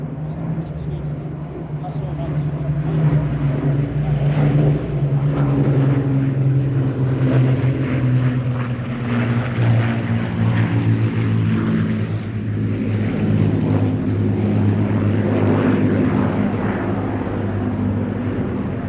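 A propeller aircraft flies over the trees at the Midlands Air Festival, its steady engine drone and propeller hum loud and sustained throughout, while a voice commentates over it.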